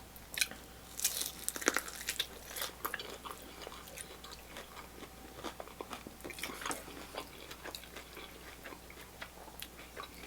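Crunchy twice-fried Bonchon soy garlic chicken wings being chewed up close, a steady run of crisp bites and crunches with no talking.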